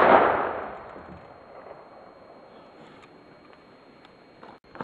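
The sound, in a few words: gunshot from old clip-fed lever-action rifle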